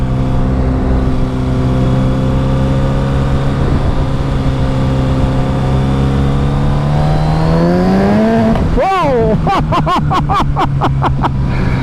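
A modified 1600cc 2022 Suzuki Hayabusa motorcycle with a quick shifter and auto blipper accelerating hard, its loud engine note climbing steadily, then a quick upshift and a rapid series of sharp, stuttering bursts close by.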